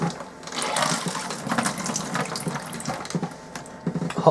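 Water runs from the cold tap into the sink of a 2006 Elddis Avante 505 touring caravan, a close splashing rush that rises and falls in spurts.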